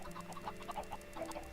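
Chickens in Minecraft cluck in quick, scattered bursts close by, over a low steady hum, with no voices.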